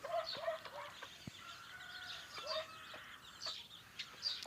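Soft, quiet clucking and short calls from a duck calling its ducklings, repeated at intervals, with faint chirping from the ducklings in the background.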